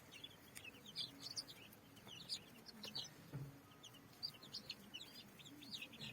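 Chickens kept on a rooftop cluck and chirp in quick scattered bursts throughout, fairly faint and mid-distance, with a few lower clucks mixed among the higher calls and no talk.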